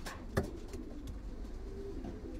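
A young male pigeon coos softly in a loft, with a brief louder wing or body flutter near the start over a steady low background hum.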